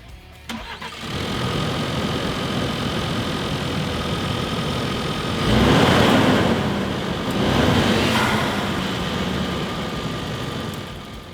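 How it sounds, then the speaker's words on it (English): A 2019–2023 Ford Ranger with the 2.3L EcoBoost and a Roush cold air intake starts and idles steadily at close range, the engine note swelling twice with brief revs before settling back to a smooth idle. "The only thing from here is to fire up your truck, make sure everything runs nice and smooth"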